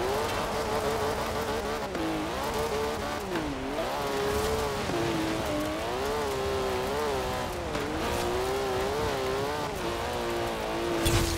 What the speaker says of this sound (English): the car I used was the 2005 TVR Sagaris Forza Edition